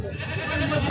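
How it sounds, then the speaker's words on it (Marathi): Local desi goats at a large goat and sheep market in Vasmat, Maharashtra, a short bleat rising near the end over a steady murmur of crowd and market noise. "गावरान शेळ्या आहेत मित्रांनो"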